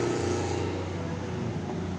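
A Transjatim Koridor 1 bus idles and moves at Purabaya (Bungurasih) bus terminal, a steady close engine rumble with constant loud traffic noise throughout.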